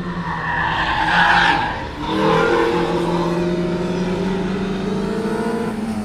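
A Daihatsu Charade race car squeals its tires loudly through corners on a track, the engine droning steadily under long, sustained skidding that swells, dips briefly and then holds.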